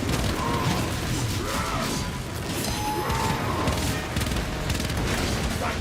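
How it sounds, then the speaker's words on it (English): Missile blasts and crashing impacts from Space Marine 2, a dense, loud and continuous barrage of booms and clattering mechanical noise, with no talking. "The missile's like shot this way towards one of my allies and then turned back and smacked me in the face."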